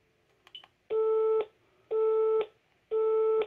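A telephone busy tone on an iPhone after a call is hung up: three steady half-second beeps evenly spaced about a second apart, preceded by a brief faint click.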